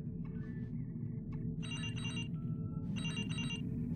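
A starship communication hail aboard the Enterprise sounds as a series of bright electronic chirping tones in short bursts over a steady low ambient hum, fairly loud and close.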